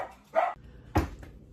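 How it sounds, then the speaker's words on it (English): Dogs bark in two separate short bursts, fairly close in a quiet room, with a brief pause between them. "I had to stop because the dogs were going crazy."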